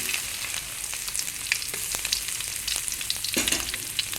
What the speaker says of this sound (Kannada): ಸ್ವಲ್ಪ ಫ್ರೈ ಆಗಲಿ ಈಗ ಬೆಳ್ಳುಳ್ಳಿ ಫ್ರೈ ಆಯಿತು